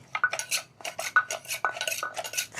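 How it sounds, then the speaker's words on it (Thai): Close, rhythmic clinking and knocking as Thai papaya salad seasonings are pounded and mixed in a mortar, a quick run of uneven strikes and scrapes with no talking. "ตำเครื่องปรุงให้มันเข้ากันเล็กน้อยครับผม"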